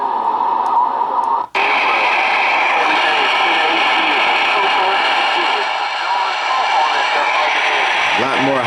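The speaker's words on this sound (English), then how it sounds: "A lot more high-pitched static, eh? That's with the noise limiter on." Loud, steady hiss of high-pitched static from the internal speaker of a Browning Golden Eagle Mark II radio with its noise limiter switched on, starting after a brief click and dropout and filling the clip to the end.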